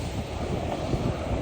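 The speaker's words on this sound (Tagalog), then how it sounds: "Pero napakalakas ng hangin ngayon." Steady, loud wind roar buffeting the microphone at sea before dawn, with a low rumbling wash like rough sea beneath it, continuous throughout.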